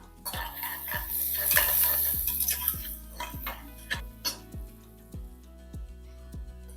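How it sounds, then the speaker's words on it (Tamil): Small onions and curry leaves frying in oil for country chicken soup, with a gentle sizzle under a regular rhythm of metal spoon strokes scraping and stirring the pan, close and moderately loud. "இது நல்லா பொரிஞ்சதுக்கப்புறம் இப்போ வந்து வெங்காயம் போட்டுக்கலாம்"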